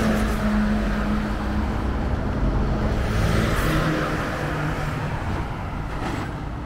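Busy weekday road traffic in Wolhusen, Switzerland, cars passing close by one after another in a continuous engine and tyre rush that fades slightly toward the end.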